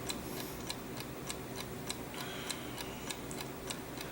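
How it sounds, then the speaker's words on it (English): A clock ticks steadily, roughly two ticks a second, each click crisp and fairly near over a faint room hiss, with no voices. "This is a sound test to see if you can hear the ticking of the clock"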